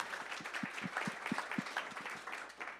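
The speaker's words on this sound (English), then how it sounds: "So let's give this guy a round of applause." Light applause from a small group at a summit talk, a few hands clapping in a loose, uneven rhythm at moderate distance.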